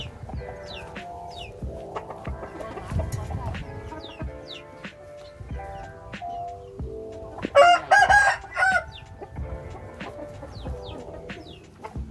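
Rooster crowing loudly and close by at a small farm, with chickens clucking steadily around it and brief faint bits of background talk.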